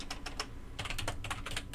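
Quick bursts of computer keyboard typing, close and fairly quiet, with irregular rapid clicks in two clusters and brief pauses between.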